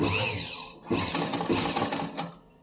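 A sewing machine runs over blouse fabric while a cross belt is attached, giving a close, rattling whir in short bursts with brief pauses between runs and no voices.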